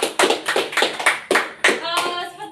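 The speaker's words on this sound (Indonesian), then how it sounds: "beri aplaus untuk kita semua" Students applaud in a classroom during a group guidance session, a short burst of hand clapping with a few quick claps that trails into scattered voices.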